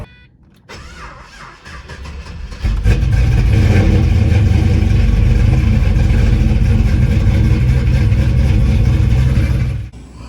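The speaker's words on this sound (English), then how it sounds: "I put the fuel tank back in, started it up, and it started up." A Pontiac GTO's engine cranks briefly, catches and settles into a loud, deep, steady idle close by, running for several seconds before cutting off near the end.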